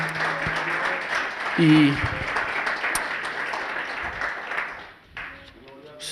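Church congregation at a Spanish-language service clapping hands together, a dense ongoing patter that runs under a preacher's voice for several seconds, then thins and fades near the end.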